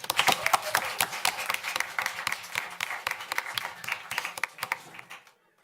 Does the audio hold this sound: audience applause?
yes